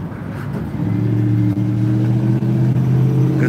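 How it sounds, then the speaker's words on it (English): A passing ice water truck, a loud, close engine drone with a steady low hum that builds and holds as the vehicle goes by. "Oh, the ice water truck."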